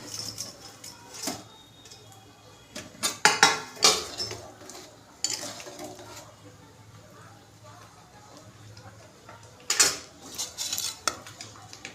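Paneer tipped into a pan for shahi paneer, giving loud metallic clanks and scraping of a spoon against cookware in bursts, with quieter stretches between; a voice talks at times over the stirring.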